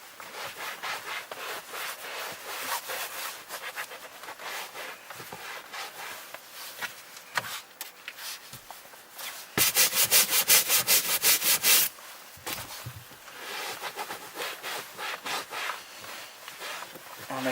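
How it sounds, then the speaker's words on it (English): A clean microfiber towel wipes perforated leather car interior, producing a steady close rubbing swish that runs continuously, with a louder, brisker stretch of scrubbing partway through. "with a clean microfiber, let's go ahead and mop up"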